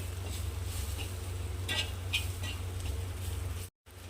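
Green chillies frying over a low gas flame, a steady soft sizzle with a few clinks of a spoon stirring the pan, briefly cut to silence near the end.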